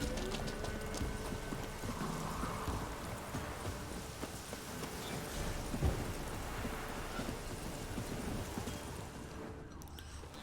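A horse's hooves clip-clop steadily in the video game The Witcher 3, a continuous trotting rhythm under a dense bed of rain-like ambient noise, with a brief thump near the middle.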